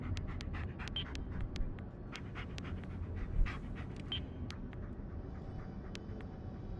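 A dog pants steadily and close by in a quiet room, with quick rhythmic breaths running through the whole stretch and no talk.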